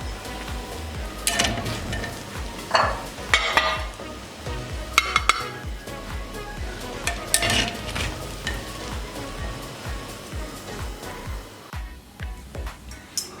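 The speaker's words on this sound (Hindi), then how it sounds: "अब इसे हम डिश आउट कर लेंगे।" Chicken handi biryani scooped out of the pot, with utensil scrapes, a few clinks against the vessel and soft rustling of rice over a faint background sizzle, close and intermittent.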